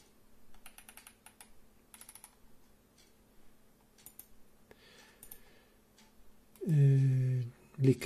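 Quick bursts of typing on a computer keyboard into a search bar in Bible software, crisp close key clicks in short runs with pauses between them, followed by a voice speaking near the end.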